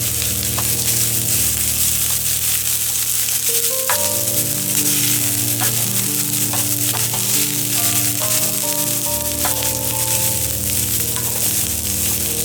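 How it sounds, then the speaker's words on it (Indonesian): Red chili, garlic and red onion being stir-fried in a pan, with a steady loud sizzle throughout and repeated sharp clicks and scrapes of stirring against the pan, no talking. "Aduk cabai merah, bawang putih, dan bawang bombay merah secara merata hingga mengeluarkan aroma sedap."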